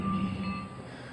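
A brief train sound effect played back by a smart speaker after a train joke, a rumbling rail-car texture with a steady whistle-like tone, moderately loud and fading slightly, with no talk over it.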